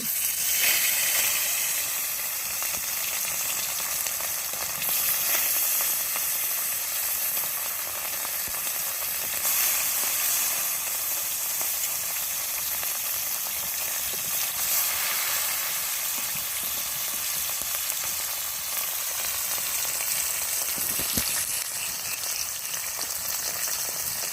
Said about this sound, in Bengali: আমি এখন মাছ ভেজে নিচ্ছি